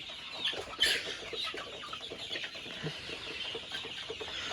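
Egyptian Fayoumi chickens on a poultry farm cluck continuously, a busy flock heard up close with overlapping calls and no talking.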